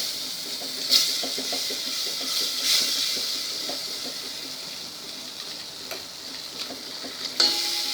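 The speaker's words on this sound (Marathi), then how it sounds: "त्यात आधी गव्हाचं पीठ भाजून घ्यायचं आहे." Wheat flour dry-roasting in a pan for tomato soup, a low steady hiss with scattered light scraping taps from stirring and a few louder knocks, heard close with no talking.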